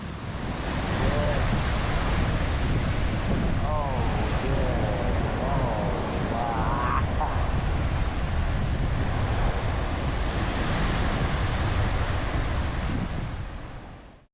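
Ocean surf breaks along the Lisbon coastline under a strong southerly swell, with a loud, continuous wash of waves and heavy wind buffeting the microphone throughout.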